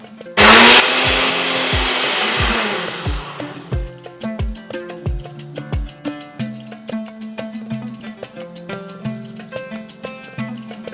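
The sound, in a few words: grinder grinding half cup of sugar into powder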